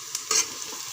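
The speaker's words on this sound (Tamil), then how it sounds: "இது கூடவே வெங்காயம் நம்ம ஒரு 2 செகண்டுக்கு வதக்கினா போதும்." Quick stirring and sizzling of onion frying in a hot pan while egg noodles are prepared, with a couple of short scraping strokes over a soft steady hiss, no voices.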